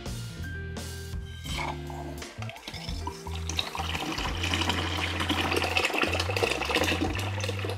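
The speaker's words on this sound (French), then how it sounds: "Voilà, il y a un petit filet qui coule, c'est très bien, ça suffit." Water trickles from an opened pipe into a small bucket already holding some water during a plumbing repair, a steady running, splashing wash heard up close and alone with no talk.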